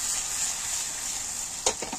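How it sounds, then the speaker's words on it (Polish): Food frying in a pan while wild mushrooms are being cooked, a steady high hissing sizzle close by, ending with a few brief clattering stirs or knocks near the end. "smaży się elegancko"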